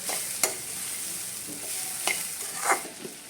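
Raw papaya thoran stirred in a pan, a continuous close sizzle with soft scraping strokes and a few light spoon taps against the metal, no talk.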